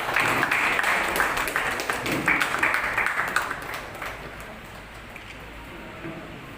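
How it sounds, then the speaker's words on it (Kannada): An audience at a Rotary awards ceremony for doctors, teachers and engineers claps briskly, with sharp crisp claps at first that thin out and fade into a soft hall murmur. "ಬರಲಿ ನಿಮ್ಮ ಜೋರು ಚಪ್ಪಾಳೆ"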